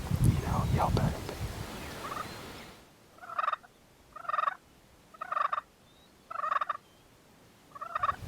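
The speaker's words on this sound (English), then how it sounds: "he's gobbling every time I, yelp at him" A wild turkey gobbles repeatedly during a Kansas spring hunt, five distinct rattling calls at regular intervals, moderately distant, after a brief opening of louder nearby noise.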